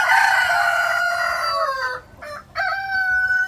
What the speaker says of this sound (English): This is a rooster here.